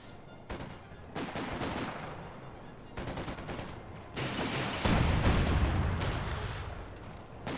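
Mortar fire and gunfire in Company of Heroes 2 during a World Championship match: sharp bursts of rapid shots and heavy booming blasts come in clustered volleys, loud and close, growing denser and rumbling toward the end.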